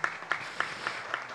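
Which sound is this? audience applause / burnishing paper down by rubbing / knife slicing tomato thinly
audience applause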